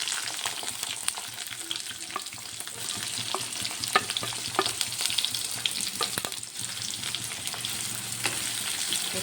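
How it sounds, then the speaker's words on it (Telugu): Green chillies and onions sizzle steadily in hot oil in a pan, a continuous bright frying hiss broken by occasional crackles and light stirring clicks, close and even with no talking. "ఆయిల్ హీట్ అయింది కదా, ఇప్పుడు ఇందులో పచ్చిమిర్చి, ఉల్లిపాయలు 2 యాడ్ చేసుకుందాం."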